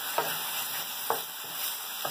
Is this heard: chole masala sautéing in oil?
yes